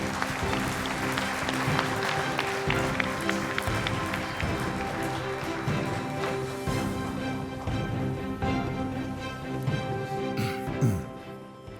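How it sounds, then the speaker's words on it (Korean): Sustained audience applause welcoming the prime minister at a conference, steady dense clapping from a large crowd filling the hall, with music-like tones running underneath and fading near the end. "여러분 박수로 맞아주시기 바랍니다"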